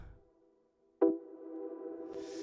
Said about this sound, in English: the reverb swells outward and then returns to the middle